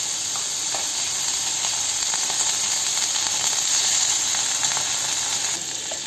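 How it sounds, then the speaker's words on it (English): Butter sizzling and frying steadily in a kadai, a continuous close hiss with faint crackles, no talking. "So in the same kadai, I'm adding 2 tablespoons of butter."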